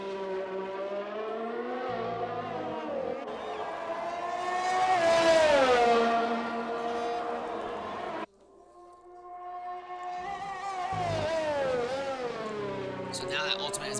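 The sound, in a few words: race cars driving a lap in a racing video game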